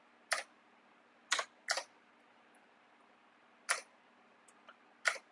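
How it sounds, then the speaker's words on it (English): Enter and Tab keys on a computer keyboard clicked one at a time: five sharp, fairly loud clacks spaced irregularly over a quiet room, with a couple of fainter ticks between them. "So I'm just clicking on enter, then tab, enter, enter, enter"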